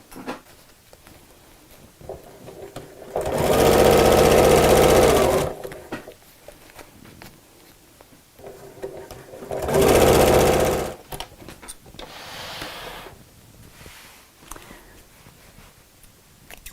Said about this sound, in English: So let's fold this over, needle down, and sew.